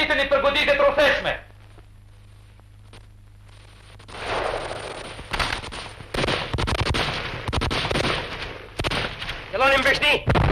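Gunfire in an Albanian war-film battle scene, bursts of rapid shots and sharp cracks in clusters over a noisy battlefield background, with a quieter stretch early on and shouted voices at the start and end.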